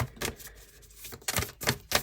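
Crisp, papery tarot-card-shuffling bursts, a few quick riffles with brief pauses between them, close and fairly quiet, with no talking.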